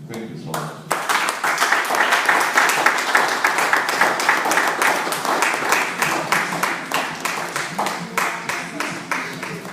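An audience claps and applauds at the end of a speech about misconceptions of the slave trade. The applause is dense and steady throughout, swelling slightly and then holding.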